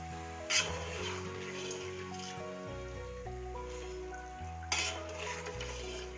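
A metal ladle lifts crisp fried jackfruit chips from a pan of hot oil, with two sharp clinks and soft scraping under steady background music.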